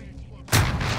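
A P90 fires in the video game Modern Warfare: a sudden loud burst of gunfire that cuts in halfway through and keeps roaring to the end, with quiet background noise before it.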